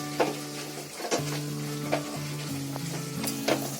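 Paneer or mushroom vegetable gravy in pav bhaji style bubbles and sizzles in a pan over full gas. A steady, close frying hiss is broken by a few sharp spatters and stirring clinks, with no voices.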